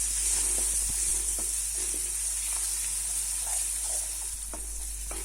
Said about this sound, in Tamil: இந்த பூண்டு இந்த நல்லெண்ணெயிலேயே நல்லா வெந்துடணுங்க.